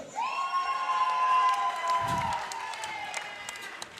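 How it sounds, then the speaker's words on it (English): A crowd cheers and whoops at an amateur fight event, a loud sustained roar that eases off over several seconds, with a few claps and shouts and a loud voice over it. "give him a cheer for Fight 11!"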